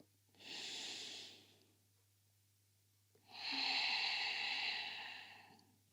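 Two long, slow breaths during a beginner yoga session, a steady airy inhale followed after a pause by a longer, fuller exhale, close and clear against quiet.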